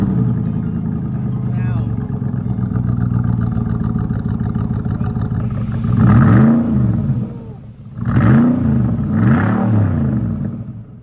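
Mercedes SLR with straight pipes idles with a dense burbling rumble, then is revved hard in three loud surges, each rising and falling back, under people talking.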